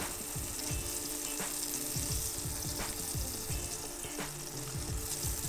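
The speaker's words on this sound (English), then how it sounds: "we're gonna throw our garlic in, saute our garlic" Garlic sautés in melted butter in a pan over medium heat, giving a steady close sizzle and crackle with occasional stirring scrapes and no talking.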